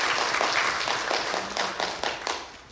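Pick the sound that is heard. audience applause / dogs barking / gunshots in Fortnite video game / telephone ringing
audience applause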